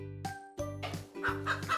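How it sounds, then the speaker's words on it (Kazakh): Farm chickens cluck in quick, repeated bursts as a short sound effect, close and clear over a steady background musical tone. "Ферма."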